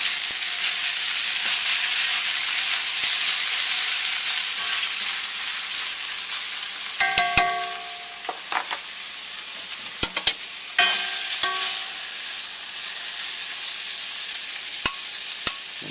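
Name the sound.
instant ramen stir-frying with pork, shrimp and vegetables in a wok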